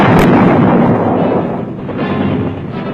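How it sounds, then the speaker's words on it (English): Sustained artillery fire during a Vietnam War operation against entrenched Viet Cong positions, a loud, continuous rumbling barrage of blasts with no voices. "Wherever the enemy was too deeply entrenched, the artillery blasted them loose."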